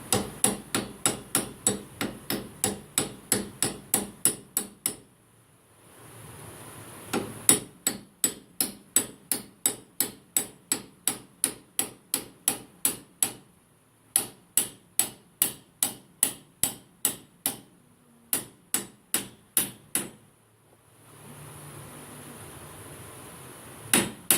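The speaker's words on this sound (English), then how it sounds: "Right, so now we're going to put the steering arm on top of the spindle. We're just going to give it a" A hammer taps a steering arm down onto the spindle of a Massey Ferguson 35 tractor in long runs of sharp, evenly spaced metallic blows, close and loud, broken by a few short pauses.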